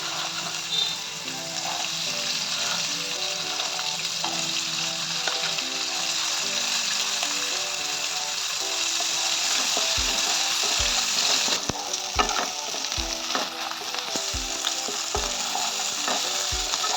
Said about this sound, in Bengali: আমি এখন কাঁকড়াটাকে ভেজে নেব।